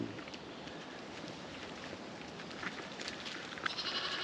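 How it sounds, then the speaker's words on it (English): A ewe in a farm barn, mother of two large lambs, gives a faint bleat amid steady broadband background noise, with no talking. "I like this sheep."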